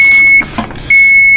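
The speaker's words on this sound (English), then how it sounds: "VG640T is still in an alarm condition, indicated by the 85 decibel audible alarm and a red flashing display" An 85-decibel audible alarm on a SUPCO VG640T vacuum gauge beeps loud and close as a steady high-pitched tone, breaking off briefly mid-clip before sounding again.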